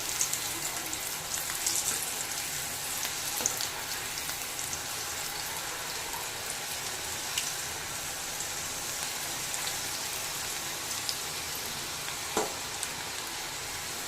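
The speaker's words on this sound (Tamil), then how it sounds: "நல்லா ஒரு டீப் ஃப்ரை பண்ணிடுங்க." Finger chips deep frying in hot oil, a steady dense crackling sizzle that runs unbroken throughout at moderate level, with a few sharper pops and spits scattered over it.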